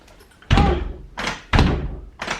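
A room door in a new apartment is pushed shut twice, each push ending in a loud close thud that bounces without latching, separated by brief quiet.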